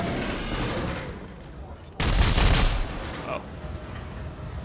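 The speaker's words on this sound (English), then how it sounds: "I have my pulse gun out." A pulse gun firing in Dead Space 3, a dense, loud burst of rapid shots lasting about a second amid steady game ambience, with a brief spoken exclamation nearby.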